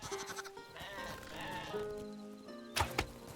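Sheep bleating in the Hytale video game, several wavering, nasal bleats layered over one another at moderate volume, with a sharper sound near the end.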